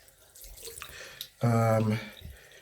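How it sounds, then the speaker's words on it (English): Warm water runs from a tap into a container in a short, loud burst lasting about half a second, with quieter dripping and small splashes around it. "you fill it up with warm water"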